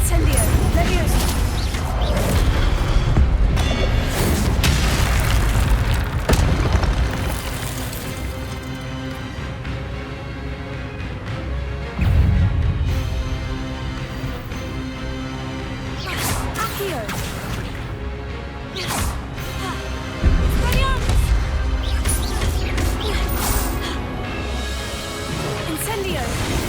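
Spell effects from Incendio and Levioso in the video game Hogwarts Legacy, with repeated crashing and whooshing hits during a fight and frequent talking over them.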